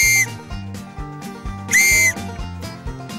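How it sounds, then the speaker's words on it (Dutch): Two loud, clear whistle blasts, one at the start and a longer one near the middle, blown outdoors to call animals from beyond a wood, with a rhythmic low tonal pattern continuing underneath and no talk. "Zak ze nou even een fluitje en dan hoop ik dat ze het nou behoren doen."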